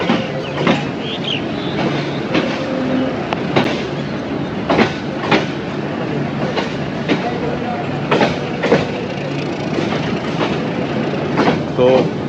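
A train pulls away from Garibpur, a village station in Kalmakanda, its wheels clacking on the rail joints in a loud, steady rhythm under a continuous rolling rumble.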